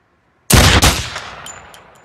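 Two sharp, loud gunshots fired in quick succession in a film scene, each followed by a decaying echo tail and faint metallic ringing.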